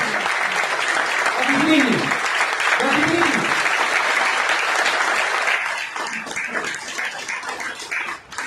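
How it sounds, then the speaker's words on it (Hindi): A crowd gives strong applause at a Modicare business presentation in Hisar, steady clapping while a voice speaks over it, tapering off near the end. "एक बार जोरदार ताली निवेश जी के लिए"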